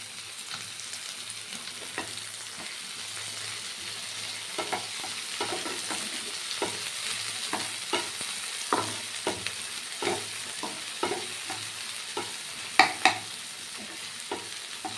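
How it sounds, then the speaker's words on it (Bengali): Onion and tomato fry in oil in a pan with a steady sizzle, broken by repeated scraping stirs at a moderate pace, close by and without speech. "সব কিছু একটু বেশ ভালো করে ভেজে নিতে হবে"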